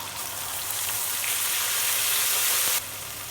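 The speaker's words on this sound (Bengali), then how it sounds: "তেল গরম হয়ে গেছে, দিয়ে দেব পেঁয়াজ, কাঁচামরিচ" Onion and green chillies sizzle in hot oil with a steady, rain-like hiss that swells slightly, then drops off abruptly near the end; no voices are heard.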